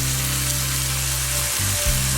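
Two cans of tomatoes hit a hot skillet for a vegan taco cornbread casserole, giving a loud, steady close-up sizzle with a brief stirring scrape partway through, no talking.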